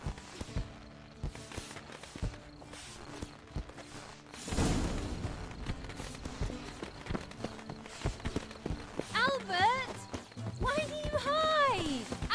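Rhythmic hoofbeats of horses clopping along amid background sounds in the video game The Witcher 3: Wild Hunt, with a sharp thud partway through and a whinny-like rising cry near the end.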